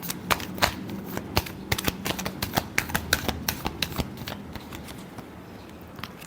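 A deck of tarot cards is shuffled by hand in one last shuffle, giving a quick run of crisp, close riffling snaps and flicks that thin out toward the end.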